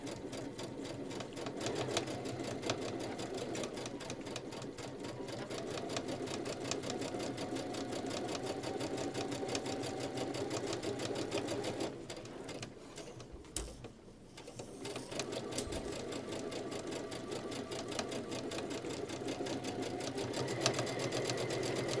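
A sewing machine runs steadily while piecing a quilt seam at a short 2.0 stitch length, a continuous close whirring hum that dips and pauses briefly midway before resuming.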